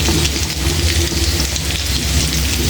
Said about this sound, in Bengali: দিয়ে দেবো পেস্ট দিয়ে ভালো করে হালকা ভেজে নেব